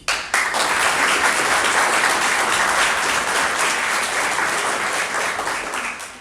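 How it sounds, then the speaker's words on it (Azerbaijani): Theatre audience at an estrada comedy show bursting into sustained applause, a loud, dense wash of clapping that starts abruptly and carries on steadily for several seconds before tapering slightly. "Təbii ki, alqışlarınız var."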